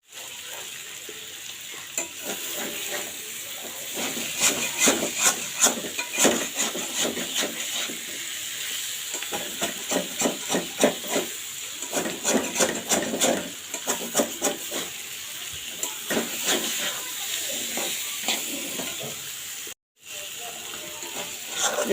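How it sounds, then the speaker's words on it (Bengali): Jackfruit seeds fry in oil in a covered pan, giving a steady close sizzle broken by bursts of crackling and stirring scrapes. "কাঁঠালের বিচি ভাজা হয়ে গিয়েছে।"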